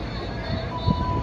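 Inside carriage 9 of a KRL Commuter Line train leaving Bekasi Timur station, a steady low rumble runs with a brief heavier thump near the end, while a voice talks over it.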